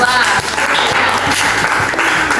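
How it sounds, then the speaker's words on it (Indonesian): Steady applause from a group fills the room, a continuous wash of clapping hands at close range with no voices standing out. "kasih tepuk tangan untuk kelompok 2"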